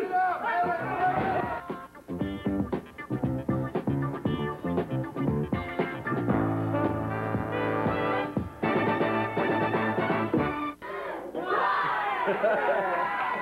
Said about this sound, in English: The countdown from some of this terrific crowd that we have on hand here today.